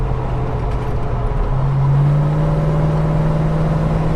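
Holden HK car engine driving through corners, a steady in-cabin drone that rises slightly in pitch as the engine pulls, with continuous road noise underneath and no talking.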